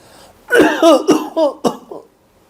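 A man coughs and clears his throat in a quick series of four or five rough bursts, close and loud, fading into a weaker final hack.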